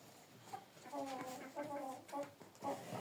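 Hens moved from a coop into a shed cluck softly in short, repeated calls, fairly faint and close, with some low background noise.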